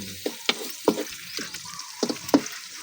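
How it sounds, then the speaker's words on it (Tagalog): Onion and garlic sautéing in a pan for frog adobo, a close crackling sizzle broken by several sharp spatula scrapes and knocks at uneven intervals, with no talking. "O, pa-brown muna natin yung sibuyas, bawang."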